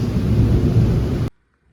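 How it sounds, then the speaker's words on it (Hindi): Rain pours outside an apartment in Thailand. A dense, rushing wash of sound lasts just over a second, then cuts abruptly to silence. "इट्स रेनिंग अगेन, फिर से भाई बारिश, फिर से बारिश"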